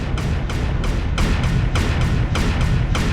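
Rapid AC/2 autocannon fire in MechWarrior Online, a steady train of sharp, evenly spaced bursts about three per second, loud and close over a constant low mechanical rumble.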